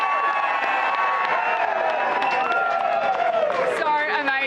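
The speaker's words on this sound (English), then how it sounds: "can we hear a big cheer for Brisbane?" Outdoor crowd of Brisbane football fans in Fitzroy cheers and shouts steadily around the Premiership Cup, a sustained, moderately distant roar mixed with clapping while a presenter talks over it.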